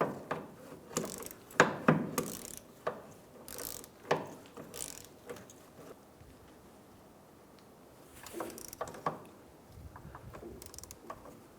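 Ratchet wrench torquing the bottom rear strut bolt on a 2003-2011 Honda Element, heard as bursts of quick clicking strokes with pauses, fairly close and moderately loud, no talking.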